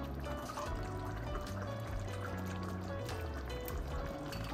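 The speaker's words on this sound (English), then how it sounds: "I think I'll put in about a cup of beef broth" Beef broth poured into a pot of goulash with dry macaroni, a steady continuous liquid pour and trickle lasting several seconds at moderate level with faint kitchen background.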